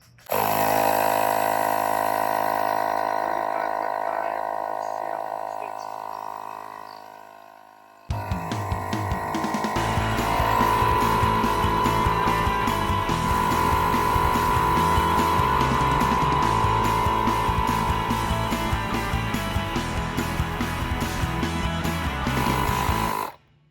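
Avid Power cordless tire inflator pumping up a car tire toward 42 psi: a loud, steady mechanical buzz with a fast pulsing chug that runs continuously from about a third of the way in to the end, after a quieter, even tonal hum at the start.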